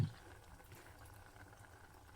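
Coconut milk payasam for an Onam sadhya simmers gently in a pot over a low flame, a faint steady bubbling murmur with a brief louder bump at the start.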